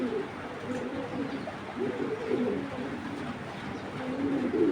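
A pair of large blackless shirting pigeons coo in low, rolling bursts close by over a steady background hum, with the cooing rising and falling in repeated phrases.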